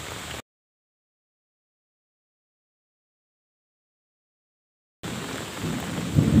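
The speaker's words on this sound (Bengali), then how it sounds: "তখন আল্লাহর অশেষ রহমতে বৃষ্টি বর্ষণ হয়ে গেল" Heavy rain roars briefly at the start, cuts to silence, then returns louder with a deep rumbling undertone near the end.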